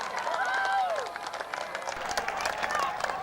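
A crowd clapping in the stands at a 1996 AFL grand final between Western Suburbs Magpies and Pennant Hills Demons, steady and rhythmic at a moderate distance and mixed with crowd noise, with whistle-like tones early on.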